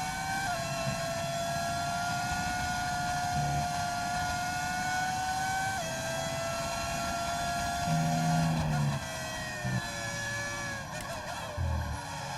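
A high-revving V10 racing engine in the F1 25 video game at Silverstone wails continuously, its pitch climbing and dropping through gear changes, loud and close with no talking.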